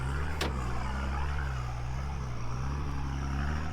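An off-road vehicle engine drones steadily as the driver gives it gas to climb out over rocks on a trial track, a close, continuous low hum with a brief sharp knock near the start.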